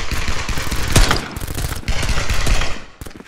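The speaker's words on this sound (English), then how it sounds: "I'm getting shot." Dense, continuous gunfire from the VR shooter Contractors in survival mode, played on an Oculus Quest 2 via PCVR, with rapid overlapping bursts and loud booming impacts filling the whole stretch and a brief break near the end.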